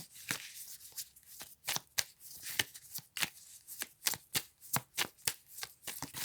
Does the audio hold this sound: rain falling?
no